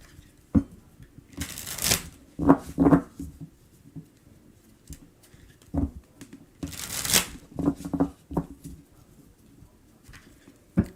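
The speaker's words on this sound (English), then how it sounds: "Let me shuffle because I wasn't ready." Tarot cards being shuffled by hand in a live reading, several quick riffling bursts and soft card slaps close up, separated by short quiet gaps.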